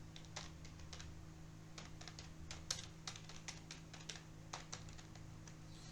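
Typing Python code on a computer keyboard: a steady run of quick, light key clicks in irregular bursts over a low constant electrical hum, close and fairly quiet, with no voices.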